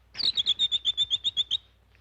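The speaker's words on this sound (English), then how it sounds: "That means strange birds." Strange tropical birds in a Brazil-set cartoon give a rapid, evenly spaced burst of about twelve bright, high chirps over roughly a second and a half, loud and close, then stop.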